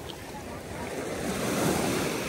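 Sea waves at high tide on Girgaon Chowpatty beach in Mumbai, a steady, close roar of surf washing in with wind noise, swelling slightly louder toward the end.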